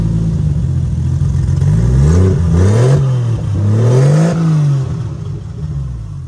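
A Toyota 1JZ engine swapped into a Nissan S14 with a straight downpipe, loud and close, idling with a deep raspy drone and then blipping through two or three rising and falling revs.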